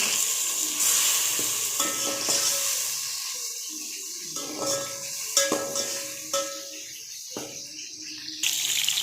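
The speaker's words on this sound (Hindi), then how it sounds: "हमारे तकरीबन बैंगन ये यहाँ पे फ्राई होने ही वाले हैं।" Eggplant sizzling steadily in a hot pan, with a few utensil clinks and stirring noises over the constant frying hiss.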